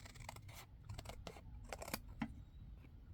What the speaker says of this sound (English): This needs to be trimmed a little bit more.